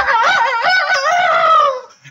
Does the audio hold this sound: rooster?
yes